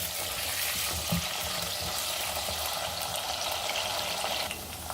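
Mixed vegetables frying lightly in a pan for a Sindhi-style sabji, a continuous close sizzle with occasional stirring, alone without talk.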